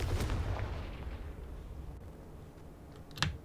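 A Confringo blast spell goes off in a video game: a loud booming burst at the start that rumbles down over a few seconds, then a sharp crackling pop near the end.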